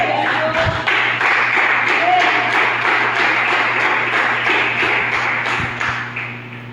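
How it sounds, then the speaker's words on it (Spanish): Church congregation applauding God, a dense run of rhythmic hand claps lasting several seconds and tapering off at the end, with a steady hum beneath. "Denle un aplauso a Dios."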